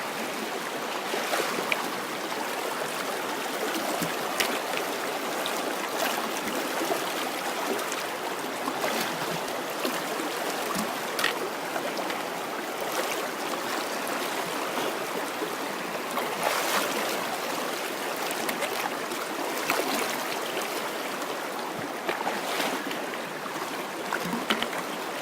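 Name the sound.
river flowing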